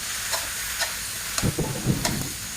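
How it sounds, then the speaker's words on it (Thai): Fish balls and bamboo shoots stir-fried in a pan with garlic, giving a soft steady sizzle with a few scraping stirs of the spatula partway through, close and fairly quiet. "หอมได้ที่แล้วใส่ลูกชิ้นปลาลงไปค่ะ ผัดให้เข้ากันนะคะ"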